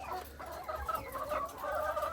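Hens cluck steadily on a small, crowded poultry plot of about ninety laying Gramasree chickens. The calls overlap in a continuous, close-range chatter over a low background hum, with no voices.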